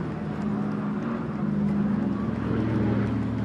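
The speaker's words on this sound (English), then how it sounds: "Great sight of the Dakota from the RAF Memorial Flight, based at RAF Coningsby" A WWII Douglas Dakota transport aircraft of the RAF Memorial Flight flying past at the Trooping the Colour flypast, its engines a steady, fairly loud droning rumble that holds throughout.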